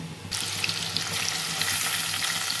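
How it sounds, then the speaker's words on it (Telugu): Onions dropped into hot oil for a tomato and green chilli curry, a loud, steady sizzle bursting up suddenly and continuing as a dense crackling hiss close by, with no talk. "ఈ ఆయిల్ కూడా మరిగిపోయింది. ఆనియన్స్ వేసేసుకుందాం ఫ్రెండ్స్."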